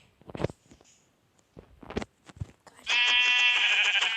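A few short sheep bleats from Minecraft sound close and synthetic, followed by a sustained bright electronic tone.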